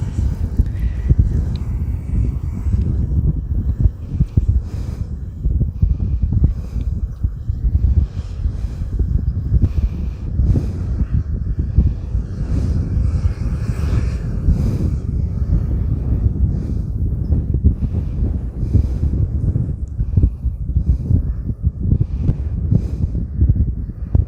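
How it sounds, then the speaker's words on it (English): Strong gusty wind blows by a canal, buffeting the microphone with loud irregular low rumbles that surge and ebb throughout. "It's very, very windy as well, so I apologize if the wind is taking over."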